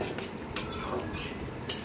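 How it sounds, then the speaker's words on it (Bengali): A utensil scrapes and knocks against a pan while stirring cauliflower curry with garam masala powder, two sharp clinks standing out over a soft, steady background. "গরম মশলা গুঁড়ো দিয়ে আমি এটা ভালো করে নেড়ে নেব।"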